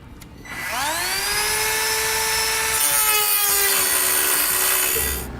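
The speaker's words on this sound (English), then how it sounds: "We'll now use our cutting tool to cut a notch into the frame." A cutting tool grinds a notch into a steel GMC Sierra truck frame. It gives one loud, continuous high-pitched whine with a falling pitch as the tool spins up, holding steady for about five seconds before cutting off.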